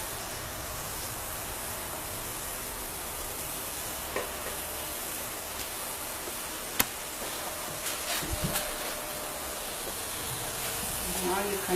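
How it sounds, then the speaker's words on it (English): Onions sautéing in a pan, a soft steady sizzle with occasional utensil clinks and stirring sounds. "And just saute them a little bit"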